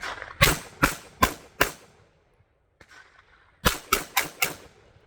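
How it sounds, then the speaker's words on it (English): A Cosaint Arms COS21 double-stack 1911 pistol fires sharp, loud shots outdoors: four quick evenly spaced reports, a pause of about a second and a half, then four more in the same rhythm. "let's go ahead and shoot this last magazine through it"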